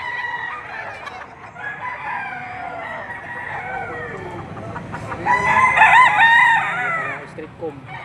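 Several roosters crow and cluck at once, overlapping calls rising loudest near the end, close by in a noisy farmyard in Padre Garcia, Batangas, Philippines.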